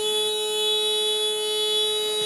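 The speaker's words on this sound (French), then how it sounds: "Le buzzer." A steady, loud electronic buzzer drones without a break at a women's triples pétanque match, a flat, continuous tone with no talk over it.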